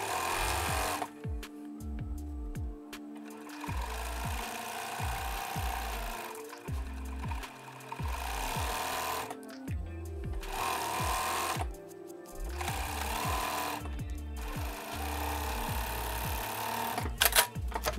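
A sewing machine hems custom luggage fabric, running in loud, rapid mechanical bursts of stitching separated by short pauses, close and busy throughout with a steady chattering rhythm.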